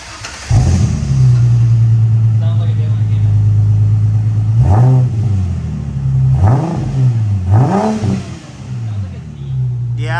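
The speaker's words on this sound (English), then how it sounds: "Just got this Mustang exhaust installed on this V6 Mustang. Let's start her up and see how she sounds." A V6 Ford Mustang with an aftermarket exhaust starts and settles into a loud, steady idle, then takes several sharp revs around the middle and end, each rising and falling quickly before dropping back to idle.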